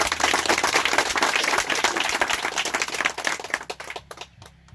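Audience applause at a three-year anniversary celebration, a dense, steady burst of many hands clapping that thins into scattered claps and fades out near the end.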